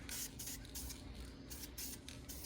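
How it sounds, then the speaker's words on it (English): Short hissing bursts of blue spray paint hit the engine bay of an Acura Integra, several quick pulses close to the microphone with brief pauses between them. "This is just a little light spray right here, and it's turned it all blue."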